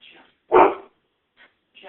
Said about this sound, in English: Oh, silly dog.